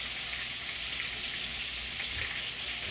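Chicken frying in a cast iron pan gives a steady, dense sizzle that stays close and even throughout, with no voices.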